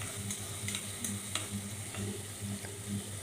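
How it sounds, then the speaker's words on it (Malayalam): Garlic, ginger, shallots and curry leaves sauté in oil for a fish curry, giving a soft steady sizzle with repeated scraping stirs of a spoon against the pan. "എന്നിട്ട് നന്നായിട്ട് നമുക്കിതൊന്ന് വഴറ്റണം"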